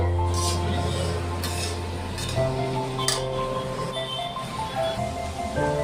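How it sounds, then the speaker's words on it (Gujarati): Ivy gourd (tindora) being stirred and fried in oil in a pan, with clinking utensil strokes and scraping over a continuous low sizzle. "પહેલાં એને તેલમાં ફ્રાય કરી લેવાનું છે એકદમ મસ્ત મિક્સ કરીને"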